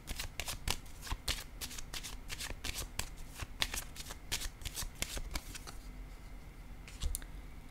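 Tarot cards are shuffled in a fast, close run of crisp riffling flicks and slaps that continues steadily, with no talk.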